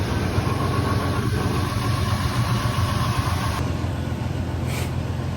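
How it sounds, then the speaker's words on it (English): A Ford F-150 pickup engine idles steadily just after an oil change, a continuous low rumble close by with a faint whine above it and no talk. "Alright, while this thing's running, we're going to check our transmission fluid."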